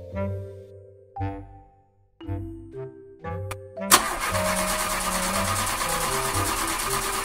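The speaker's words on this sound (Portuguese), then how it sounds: "vamos ligar o carro e ir." An old cartoon car's engine is cranked in a few halting, sputtering bursts with pauses between them, then catches and runs with a loud, steady rattling roar for the rest of the clip.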